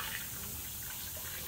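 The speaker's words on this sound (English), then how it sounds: "we're just going to start adding our 50-50 mix" 50-50 coolant mix poured into the radiator of a Kawasaki Mule 3010/4010 diesel utility vehicle, a steady quiet liquid trickle and splash running evenly throughout with no talk.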